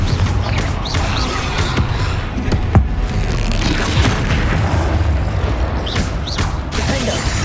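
Confringo blasting spell in the video game Hogwarts Legacy: dense, loud booming rumble of continuous blasts and crashes, with a sharp crack partway through, filling the whole stretch with no talk.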